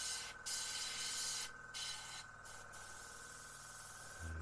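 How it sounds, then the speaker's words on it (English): Short hissing bursts of a spray can lightly spraying paint on a model aircraft, several quick puffs separated by pauses, close by over a faint steady hum. "We want to spray very, very lightly here."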